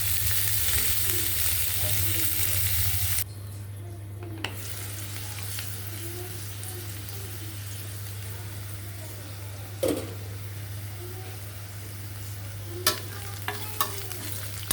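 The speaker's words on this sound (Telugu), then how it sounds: "రెండు చిన్న సైజు ఆనియన్స్ ముక్కలు వేసుకొని మగ్గపెట్టుకోవాలండి మొత్తం అవి ఫ్రై చేసేసుకోవాలి" Chopped onions with green chilli and curry leaves fry in oil for a potato kurma, a loud burst of sizzle at first, then a quieter steady crackle over a low hum, with occasional utensil clicks.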